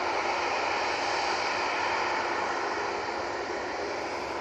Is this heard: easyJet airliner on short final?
yes